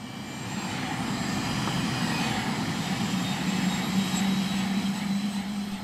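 Aircraft engine drone during an airlift flight from Kathmandu, Nepal toward Everest, a steady loud cabin roar with a low hum that holds level throughout, no voices.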